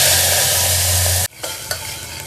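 Tomato paste with turmeric and deggi red chilli hitting hot oil in a pan, a loud, bright sizzle for over a second that cuts off abruptly, followed by quieter stirring scrapes and faint frying.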